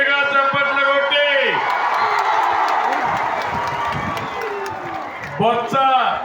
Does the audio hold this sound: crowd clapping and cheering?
yes